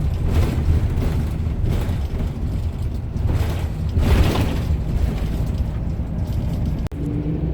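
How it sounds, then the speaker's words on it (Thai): Broadband rumbling rattle and vibration inside a Nakhonchai Air first-class coach bus on a rough road, loud and continuous with steady low-frequency drone and creaking surges, a brief sharp click near the end, no talking. "ถนนขรุขระกันเลยมีเสียงสั่นนะ"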